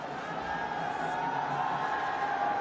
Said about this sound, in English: They've been cheering